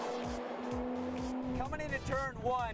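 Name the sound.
BMW twin-turbo inline-six race car accelerating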